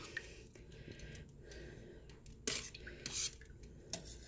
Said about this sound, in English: Now I like to take some tongs and just kind of mix everything together.